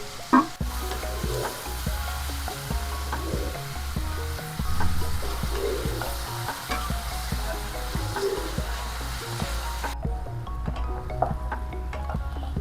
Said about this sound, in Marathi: तेल गरम झालेलं आहे। आपण ह्याच्यामध्ये कांदा लालसर भाजून घ्यायचा।